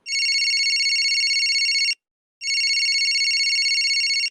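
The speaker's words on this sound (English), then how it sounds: "Suddenly, my phone rang." A telephone rings in two long electronic trilling bursts separated by a brief pause, loud and close with no talking.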